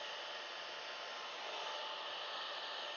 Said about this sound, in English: If you want things to dry fast, hair dryer.